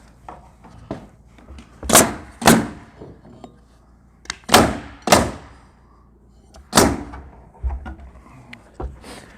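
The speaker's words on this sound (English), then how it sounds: "we'll pass her the nail gun. Let her nail that." A nail gun fires into an exterior trim board on a shed, several sharp loud bangs, some in quick pairs, spaced irregularly with quiet pauses between.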